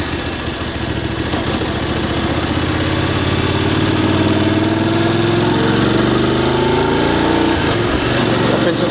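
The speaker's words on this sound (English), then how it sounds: "Downshift without the clutch, downshift again without the clutch, down into second without the clutch" A VOGE DSX 900 motorcycle engine runs loud and close, its pitch sweeping and dropping in stages as it downshifts without the clutch, with a rider's voice over it.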